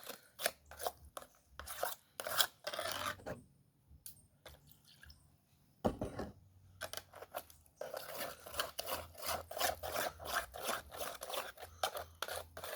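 Thick Jamaican cornmeal and plantain porridge being stirred in a pot, giving repeated scraping, squishing strokes in an irregular rhythm with a brief pause midway, close and moderately loud, no voices.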